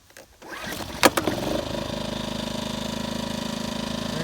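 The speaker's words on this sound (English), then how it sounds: "Start it up just like this before you get all put that together" A small engine is cranked on low idle with fuel on, catching after a brief sputter and settling into a steady, close, rhythmic idle chug.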